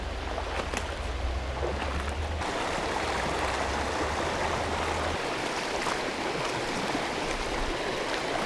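Creek water flowing steadily through a clear North Georgia river, a continuous close rushing wash with low rumble, alone without voices.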